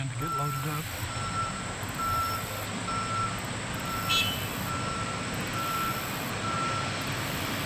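An ore haul truck reverses at a mine site, its backup alarm beeping at a regular steady rhythm over a constant heavy diesel rumble from the distance, with someone talking over it.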